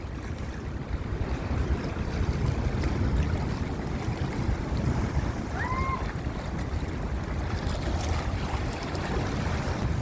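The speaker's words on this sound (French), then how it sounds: "Oh, les vagues qu'il y a là-bas." Ocean waves rolling in at the seaside rock pools of Porto Moniz, a steady broad wash of surf with wind buffeting the microphone, continuous and fairly near with no talk.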